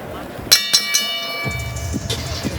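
A boxing bell clangs three times to end a round, bright ringing strikes that decay under crowd noise, with a commentator's voice following.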